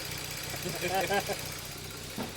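VW Passat B6 3.2 FSI engine idling at close range, a quiet, steady low hum, with people talking over it for much of the time.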